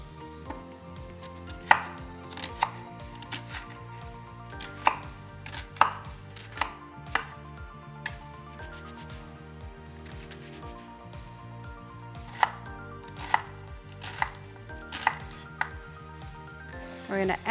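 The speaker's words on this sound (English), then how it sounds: "Next, we will chop some onion." A knife chops onion on a cutting board in a kitchen, a steady run of crisp taps spaced irregularly at close range, with music playing underneath throughout.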